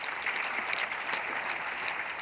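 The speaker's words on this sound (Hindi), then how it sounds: "एक बार जोरदार तालियां भाई।" An audience at an Mi convention in Panchkula applauds: a continuous wash of many hands clapping at moderate volume, steady throughout with no one speaking over it.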